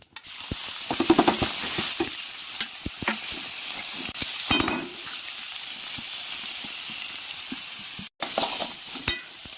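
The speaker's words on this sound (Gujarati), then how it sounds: "આપણે જીરું ને રાઈ નાખીએ છીએ, કટિંગ કરીને મૂકી છે ઝીણી, એ તેલમાં સાંતળવાની છે." Cumin and mustard seeds sauté in hot oil for a Gujarati besan sabji, a steady close sizzle with scattered pops and spoon scrapes as they are stirred, with a brief gap near the end.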